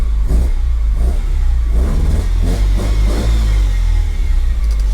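A 1976 Alfa Romeo Alfetta GT engine runs while the car is driven with the engine still a little cold. It gives a loud, steady mid-pitched drone with rhythmic revving swells, heard close up with wind noise from an open window.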